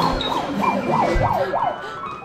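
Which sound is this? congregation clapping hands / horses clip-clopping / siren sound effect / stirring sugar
siren sound effect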